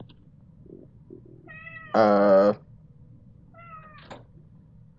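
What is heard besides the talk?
cat at a door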